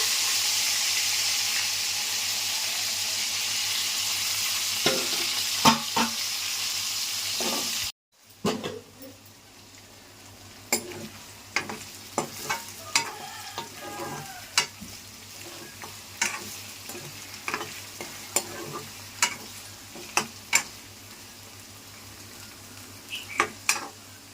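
Eggplants frying in oil in a pan, a steady sizzle at first that drops away, then scattered clinks and scrapes of stirring and lifting the pieces out, close by.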